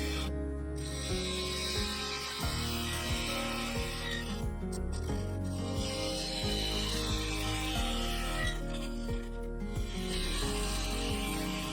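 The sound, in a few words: 3/8 bowl gouge cutting sapele wood on lathe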